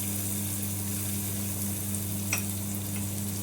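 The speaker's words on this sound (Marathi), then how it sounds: "थोडं बटर इकडं पण लावून घ्यायचं आहे यामध्ये थोडासा कांदा घालायचा" Onion frying in butter on a pan for masala pav, a soft, even sizzle with a steady low hum underneath and a single faint clink partway through.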